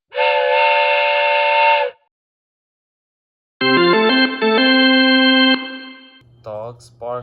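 A Ring Video Doorbell 3 chime tone imitating a two-tone steam train whistle sounds, pauses, then a second stepped chime plays, followed by a brief voice.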